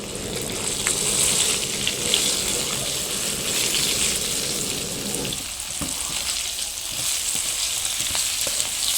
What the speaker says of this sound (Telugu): ఇందాక మనం ఫ్రై చేసి పెట్టుకున్న దొండకాయ ముక్కల్ని వేసేసుకుందాం వేసేసుకుని మిక్స్ చేసుకోవాలి